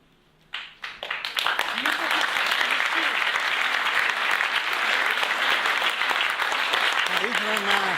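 Audience applause at a conference, breaking out abruptly and swelling into a sustained, dense roar of clapping from a large crowd that holds steady to the end.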